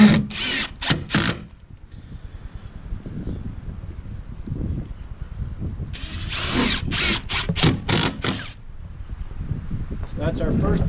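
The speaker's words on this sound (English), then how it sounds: "So we'll just screw that to this 2x4. I usually do 3 screws in a sidewall." Power drill driving screws through plywood into a 2x4 sidewall stud while setting up a human foosball frame, with two bursts of high whirring near the start and middle over steady background noise.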